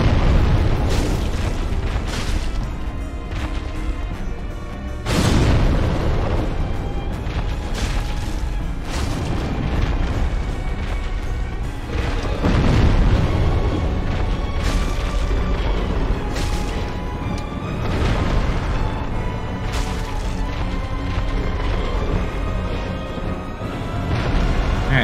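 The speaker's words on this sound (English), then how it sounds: "Stop with the explosions!" Repeated deep booming blasts from the Demon Firesage boss fight in Dark Souls: Remastered roll one after another, loud and continuous, with rumbling crashes layered throughout and no talking.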